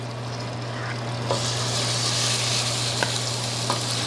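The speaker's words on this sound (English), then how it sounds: "And it should sizzle right away." A steady hiss of chicken frying in hot olive oil sizzles in a pan, with a few soft pops and clinks over a low background hum.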